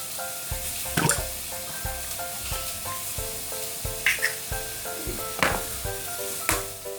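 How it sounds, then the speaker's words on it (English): Free-range eggs sizzle and crackle steadily in a hot pan, with occasional louder pops and light utensil clicks over a backdrop of faint music. "Now the eggs start to cook."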